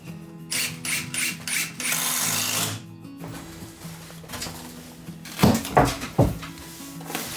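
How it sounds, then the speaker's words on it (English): A regular nail gun drives iron nails into wood while a veteran Japanese carpenter builds a household altar room. Several sharp, close shots land near the end, after a stretch of hissing, clattering workshop noise. "then nail it off with a regular nail gun for a solid hold"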